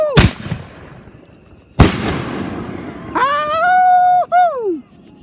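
Two sharp, booming firework bursts a couple of seconds apart, each with a crackling tail, followed by a loud rising-and-falling whistling tone and a shout.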